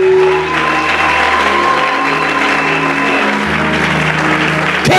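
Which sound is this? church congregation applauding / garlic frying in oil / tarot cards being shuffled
church congregation applauding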